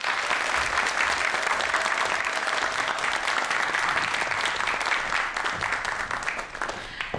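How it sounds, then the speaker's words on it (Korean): A lecture audience claps as a speaker is called onto the stage, giving a dense, even burst of applause that holds steady for several seconds and then thins out toward the end, with no talking over it. "큰 박수 부탁드릴게요."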